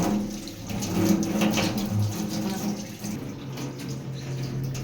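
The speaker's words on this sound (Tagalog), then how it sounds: "Ating hugasan ng maayos." Water running from a kitchen tap while pechay (bok choy) is washed, a steady splashing stream with changing spatter as the leaves are rinsed, close and moderately loud.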